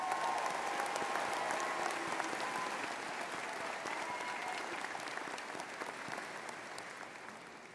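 Audience at a college engineering commencement ceremony clapping for graduates, a broad, even patter of applause from a large hall that slowly fades toward the end.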